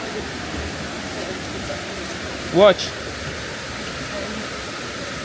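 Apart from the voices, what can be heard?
Boti Waterfall in Ghana, rushing water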